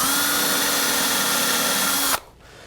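A power drill driving a screw into HDPE plastic, a steady close motor whine for about two seconds that stops abruptly, leaving quiet room noise.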